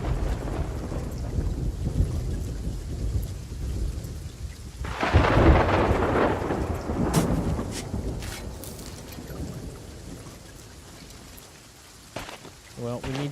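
Steady heavy rain pours over the open sea during a thunderstorm in the pirate video game Sea of Thieves, with a loud rolling thunderclap breaking through midway before fading back into the downpour.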